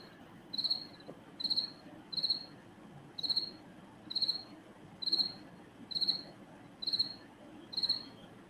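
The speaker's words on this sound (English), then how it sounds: "Crickets? Yeah, they go away, right?" Crickets chirp just outside a door in a steady rhythm, nine evenly spaced bright pulsed trills with no other sound, over a faint indoor room hum.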